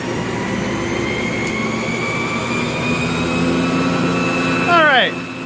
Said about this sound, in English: turn on our generator.